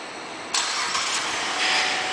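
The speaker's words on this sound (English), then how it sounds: "One of the many options in this car is a remote start, and let me demonstrate." A 2007 GMC Arcadia SLT engine starts by remote start, cranking abruptly and settling into a steady, fairly close idle with no talk.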